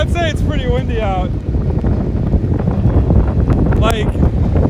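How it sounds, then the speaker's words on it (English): Strong wind, sustained around 20, buffets the microphone in a steady low roar during a heavy snowstorm in central Minnesota, with a person briefly talking over it. "Windy out."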